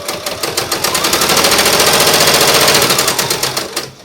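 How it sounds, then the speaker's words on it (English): A sewing machine runs a steady quarter-inch seam on a fabric bowl cozy, its needle hammering in a fast, even rhythm that holds loud and close before slowing at the end. "Put my foot down and start sewing using a 1/4 inch seam."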